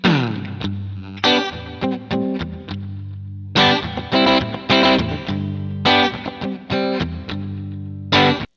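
Semi-hollow electric guitar in the style of a Gibson ES-335 with coil-split humbuckers played in bright, clean chords with a slightly thin, glassy tone, strummed in bursts with short pauses between phrases.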